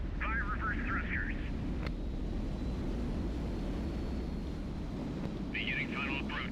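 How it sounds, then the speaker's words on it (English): A video game spaceship fires its reverse thrusters while landing, giving a steady, dense roar that runs through the whole stretch, with brief bursts of a voice speaking over it. "so we're going to land you now. Fire reverse thrusters."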